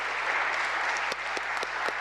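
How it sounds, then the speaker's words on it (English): Audience applause for the panelists closing an international space partnerships panel session, a steady dense wash of clapping with a few sharper individual claps standing out, moderately loud and continuous with no talk. "So please give a round of applause for our panelists."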